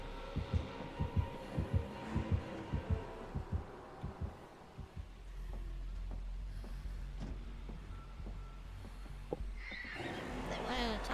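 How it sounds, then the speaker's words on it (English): Killer's heartbeat thumping steadily in the horror game Dead by Daylight, a run of low, regular pulses through the first half, then fading beneath a droning background and scattered game noises. "I hear a heartbeat in the center."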